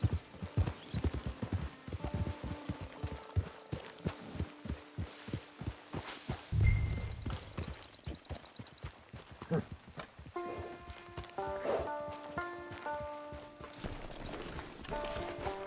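Horse hooves clip-clopping in the video game Red Dead Redemption 2, a steady rhythmic trot of clear, close hoofbeats, joined later by soft tonal game music and chimes.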